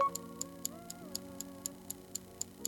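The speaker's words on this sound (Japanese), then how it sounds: "アナログ時計みたいな音がして、これは雰囲気を出してくれます" A HUAWEI WATCH GT Runner smartwatch timer ticks like an analog clock, with faint, evenly spaced clicks about four times a second over a soft background hum.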